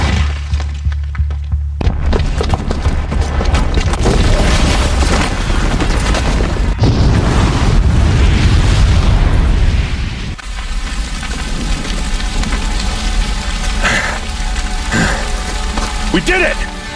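A bomb explodes in the video game Horizon Zero Dawn, a loud booming blast with shattering and crumbling debris that rumbles on for several seconds, then settles into a lower rumble. Faint voices are heard underneath.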